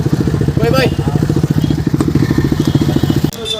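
A motorcycle engine runs with a fast, chugging putter throughout, close by, briefly cutting out near the end.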